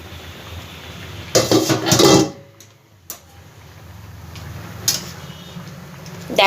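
A metal lid handled on a cooking pot of simmering pointed gourd with fennel, giving a few close clanks and scrapes between quieter stretches of faint bubbling.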